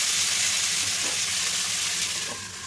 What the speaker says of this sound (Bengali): 2টো টমেটো নিয়েছি। এটাকে ভালো করে নাড়াচাড়া করে আমি